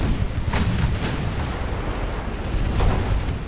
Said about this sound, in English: There's a few shots landing.